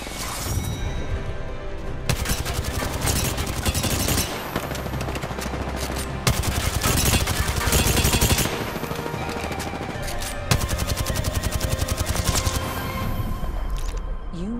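Sustained automatic gunfire in the battle royale shooter Apex Legends, dense rapid bursts hammering almost without pause, loud and close, with short breaks between volleys.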